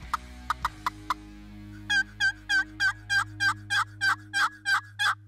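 Wild turkey in spring hunting season gobbles repeatedly in answer to a call: a few sharp call notes first, then a run of about ten rattling gobbles, clear and fairly close, with no talk.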